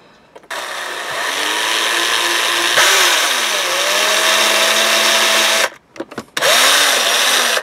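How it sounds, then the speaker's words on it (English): A power cutting tool trims a piece off a metal hook on an FX35 center console mount, a loud steady whining buzz that runs for several seconds, pitch dipping under load, then stops briefly and restarts for a short final burst. "I just trimmed off a piece there to shorten my hook a little bit"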